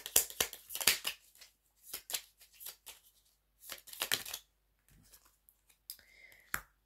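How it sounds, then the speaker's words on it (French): Tarot cards are shuffled and drawn in a quiet room, giving bursts of crisp riffling and slapping, several separate flurries with short pauses, plus a few soft clicks near the end. "Je vais tirer trois cartes pour voir ce qui va se passer à la fin."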